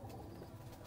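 Faint, soft coo from a pigeon, a brief low murmuring call heard alone under a hazy background.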